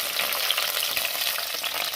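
Green chili and ripe tomato dropped into hot oil for a Kerala fish curry crackle and hiss in a dense, steady sizzle, close and loud throughout with no voices.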